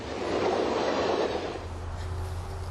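A train rolls past on nearby tracks through thick vegetation at up to 60 mph, a loud sustained rumble with rail noise that eases slightly as it continues, with no talking.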